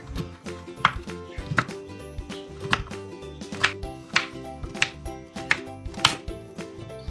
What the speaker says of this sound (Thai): จากนั้นหั่นเป็นชิ้นขนาดตามชอบได้เลยค่ะ